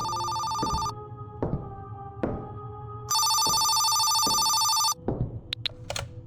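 A telephone rings in the video game Maple Ridge, with loud electronic ring bursts interrupted by pauses, clicks and soft in-game thumps, ending with a few short beeps.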